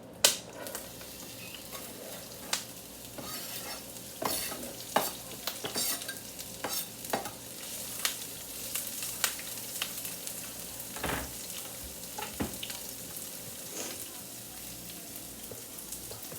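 Onions sizzle and fry in a pan alongside ground beef, with scattered stirring clatters and utensil scrapes over a steady crackle; no talking.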